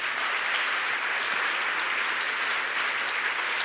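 Steady, dense applause from a church congregation praising the Lord, loud and continuous throughout with no pauses and no talking.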